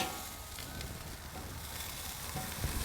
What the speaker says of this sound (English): I'm gonna do this other side another 30 seconds just to give it a little bit more searing